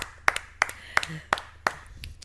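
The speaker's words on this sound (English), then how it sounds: "This is a round of applause." Five sharp, evenly spaced claps ring out at a Gavel nonprofit event in Nigeria, loud and distinct against a quiet room.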